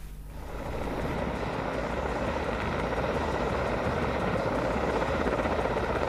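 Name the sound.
helicopter flying during election campaign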